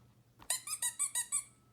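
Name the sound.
squeaky sound in Ballyland Sound Memory app game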